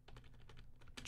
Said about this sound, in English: what I did there was I hit Alt Begin Bracket to trim it